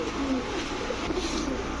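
Army breed pigeons coo in short, low murmuring bursts against a dense background hum, with no talk over them.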